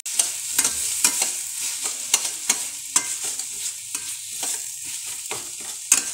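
Tomato rice masala with salt and turmeric is stirred in a pan, giving rhythmic spoon scrapes and clinks every half second over a soft continuous sizzle, close and clear with no talking.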